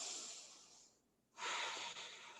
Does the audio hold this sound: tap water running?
no